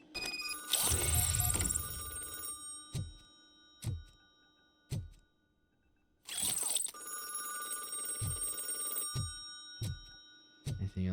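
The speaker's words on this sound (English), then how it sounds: "Anything else before I pick up this phone?" A telephone in the Robocop Rogue City video game rings in two loud bursts of rapid bell trills, with quieter footsteps and clicks in the gaps between.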